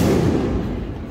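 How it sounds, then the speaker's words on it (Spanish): Fireworks boom and crackle over a city in Guatemala, a dense, continuous rumble of overlapping low blasts that fills the whole moment without pause. "los fuegos artificiales no son tiros?"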